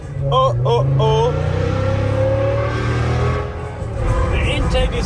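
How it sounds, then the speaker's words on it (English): A loud, roaring BMW M5 V10 engine revs hard and holds a high, steady drone of intake roar, fading slightly before swelling again, with voices shouting over it. "The intake is nearly louder than the exhaust. The intake is crazy."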